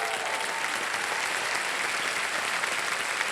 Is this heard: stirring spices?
no